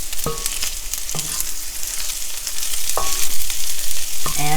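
Pieces of vegan pork substitute frying in a pan are flipped one after another, several loud clacks of a utensil against the pan over a strong close sizzle that grows louder as the pieces hit the oil.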